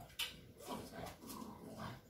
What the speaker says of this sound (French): les chiens sont un peu fous dans ces cas-là